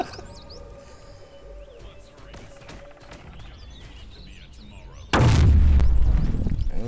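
Base cannon fire in the video game Ethereal, a sudden loud booming blast late in the clip that follows softer game effects and music.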